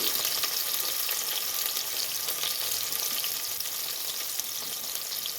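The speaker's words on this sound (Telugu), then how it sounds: "పచ్చిమిర్చి వేసుకున్న తర్వాత ఇవి వేగాక కొంచెం ఆనియన్స్ కూడా వేసుకుంటున్నానండి" Onions with green chillies frying in a pan for Telangana-style spicy chicken, a steady close sizzle with crackling hiss throughout, no voices.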